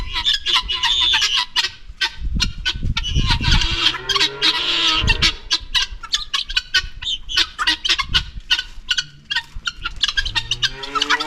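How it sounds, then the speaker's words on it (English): Bush turkeys and other fowl in an animal enclosure in Munnar, India squawk and call repeatedly in loud, busy bursts, with occasional voices nearby. "These are bush turkeys, obviously."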